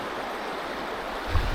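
Strong, deep river current near a campsite at Sta. Cruz, Puerto Princesa, Palawan, a steady soft rushing wash with a brief low surge near the end, no voices.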